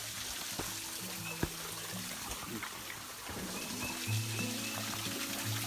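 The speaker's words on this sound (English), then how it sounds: "I hear some water flowing. I want to come over and see what the little waterfall looks like." A small waterfall flows outdoors in a steady, faint trickle and splash, with low background hum and a few soft knocks.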